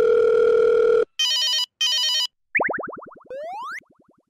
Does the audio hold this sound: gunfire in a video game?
no